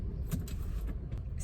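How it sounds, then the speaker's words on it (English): A parked car goes quiet as keys jangle in several quick metallic bursts over a low, soft background rumble, fairly close and fairly quiet. "Let me turn this car off."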